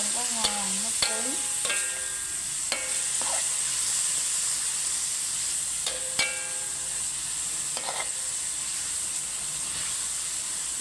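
Meat, not lean cuts, stir-fried in oil in a pan, with a constant bright sizzle and hiss. Sharp clinks and scrapes of a utensil against the pan come at irregular intervals, with no talk over them.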